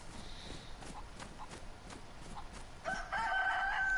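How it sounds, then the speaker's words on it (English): A chicken in the video game DayZ crows loudly in a long cock-a-doodle-doo near the end, after soft rhythmic footstep-like thuds and ambient background. "Trust me, chicken, you wouldn't be clucking if I had a knife"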